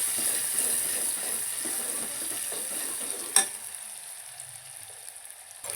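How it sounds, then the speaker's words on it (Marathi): Finely chopped onion fries quietly in a pan for dal tadka, a soft steady sizzle with faint stirring scrapes and one sharp utensil clink midway. "हा एक कांदा आहे तो बारीक चिरून घेतला आहे तो ॲड कर छान असं आपल्याला हे भाजून घ्यायचं आहे"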